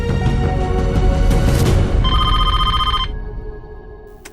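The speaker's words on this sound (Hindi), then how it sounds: "ये फोन भी दिन भर बजता है।" A telephone bell rings loudly over a busy, noisy room, its bright trilling bursts repeating and then cutting off, leaving a fainter tone.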